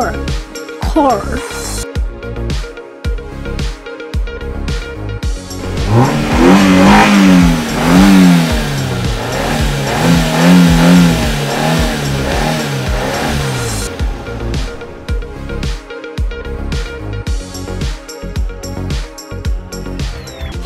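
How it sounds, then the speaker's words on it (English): A car engine revs loudly and climbs in pitch through the middle of the clip with repeated surges, over a rhythmic music track that keeps a steady beat before and after. "Car."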